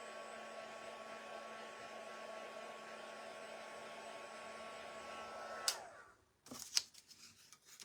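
A hair dryer blows steadily and loudly for several seconds to dry French vanilla paint on a craft tag, then shuts off, followed by a few sharp clicks and light handling noises.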